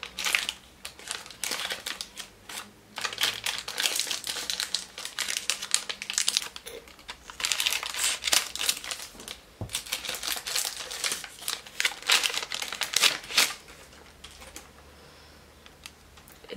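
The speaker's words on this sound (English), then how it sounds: "It came in this plastic case. And I'm gonna open it if I can." A plastic case for a red-headed dermaroller being pried open, dense crinkling and crackling of plastic in rapid bursts, close and fairly loud, fading to quieter handling near the end.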